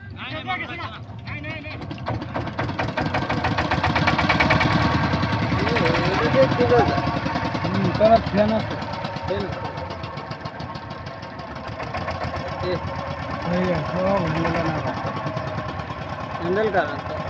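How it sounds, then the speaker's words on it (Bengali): A boat's engine chugs loudly and steadily as the boat pulls away, a rhythmic knocking drone that swells and eases slightly, with people talking over it. "তো ফাইনালি নৌকাটা ছাড়ছে"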